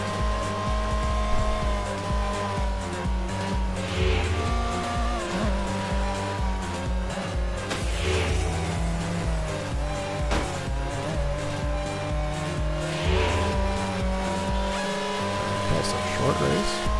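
Race cars in the MCLA racing video game roar steadily through a race, with engine drone and shifting tones rising and falling, periodic tire squeals, and game music layered throughout at a constant loud level.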